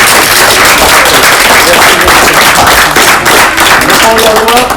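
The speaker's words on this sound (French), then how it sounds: "On peut les applaudir." An audience of parents and onlookers applauds a children's school show, dense sustained clapping filling the room loudly and continuously, with faint voices mixed in.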